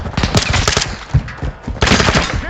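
Automatic weapon fire in the video game Modern Warfare 2, loud rapid bursts of gunshots close up, broken by brief pauses before another burst.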